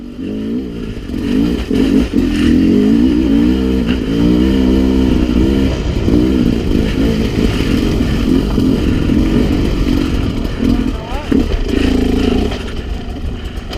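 A Sherco 300 SE-R dirt bike is ridden through technical terrain, its engine loud and close with constant blipping revs and throttle changes that rise and fall throughout.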